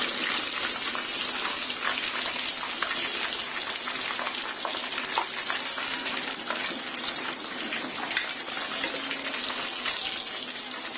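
Crispy chicken breast deep-frying in hot oil, a dense, continuous crackling sizzle like heavy rain that holds steady and eases slightly at the end, with no talking.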